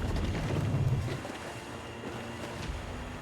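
A sailing ship under full sail in the game Assassin's Creed IV Black Flag, with wind rushing and water washing against the hull, a low rumble fading after the first second into softer ambient sea.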